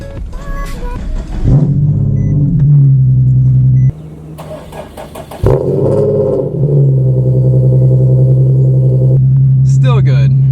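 A Nissan 370Z engine starting up and settling into a steady idle, with a low, even drone, a brief dip partway through and then a second start, heard close from inside the car.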